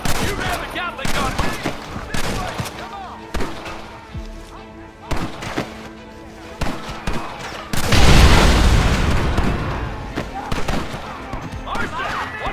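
Gatling gun and rifle fire in the Western game Red Dead Redemption: scattered loud gunshots and booms, then a dense roaring burst of rapid fire midway, with voices shouting between the shots.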